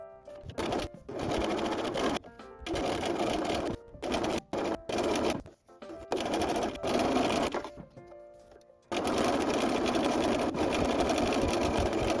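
A sewing machine top stitches the long edges of a folded tote bag strap in several bursts of fast, even whirring, broken by short pauses between runs, close and steady with no speech.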